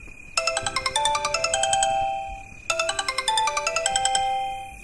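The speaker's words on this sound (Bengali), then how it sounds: "রাস্তায় পা রাখতে পকেটে থাকা ফোনটা সশব্দে বেজে ওঠে" A mobile phone rings loudly from a pocket out on a street: two bursts of a bright, chiming melodic ringtone with rapid notes, separated by a short pause, over faint background noise.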